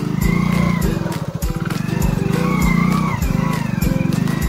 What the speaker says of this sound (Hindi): बाइक हो रही है पूरी स्लिप